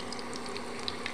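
Raw green banana slices deep frying in hot oil for homemade chips, a steady bubbling sizzle with a few soft crackles, close and continuous, with no voices.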